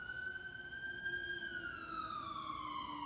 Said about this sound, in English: I wait for the sirens to stop